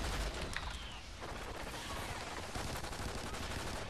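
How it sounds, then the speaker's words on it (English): Sustained automatic gunfire in Call of Duty: Ghosts Extinction rattles steadily at moderate loudness, one dense volley running through the whole stretch with no clear pauses. "I'm getting shot at."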